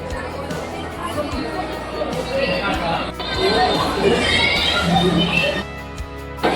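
Crowd murmur at the Swami Samarth temple in Akkalkot, a steady dense babble of many overlapping voices with shuffling, swelling slightly midway and dipping near the end.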